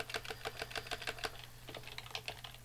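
Rapid keystrokes on a computer keyboard while entering text into a Blender game, a steady irregular clatter of close, crisp clicks with a short pause midway before resuming.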